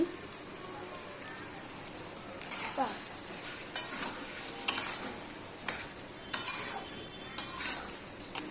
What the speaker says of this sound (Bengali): এরপর আমি একবার ভালো করে নাড়িয়ে নিচ্ছি